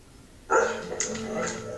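A dog barks suddenly and keeps up a short burst of yips and barks close by, with people talking at the same time.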